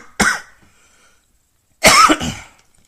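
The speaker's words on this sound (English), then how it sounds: "I got a cough with acid reflux" Two sharp, loud coughs from a man with a cough tied to acid reflux, one brief hack followed by a longer, rougher double cough after a pause, close up with quiet between.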